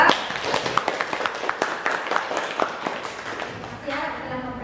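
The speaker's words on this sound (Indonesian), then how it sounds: "tepuk tangan untuk kelompok 2" Classroom applause for a student group after their presentation, a scattered run of claps close by, tapering off toward the end as voices begin.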